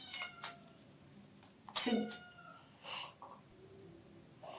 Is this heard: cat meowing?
yes